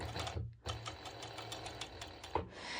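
A sewing machine stitches bikini bottoms in short whirring bursts with brief pauses, close and fairly quiet, with a small click near the end.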